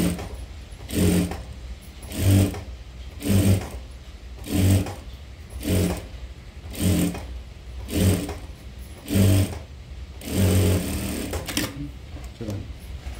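A sewing machine stitches piping onto a paithani saree blouse neck in about nine short bursts of rapid whirring, each run lasting under a second with brief pauses between, close and clear.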